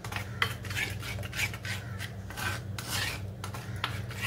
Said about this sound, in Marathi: थोडंसं जायफळ छोट्या किसणीवर किसायचं आहे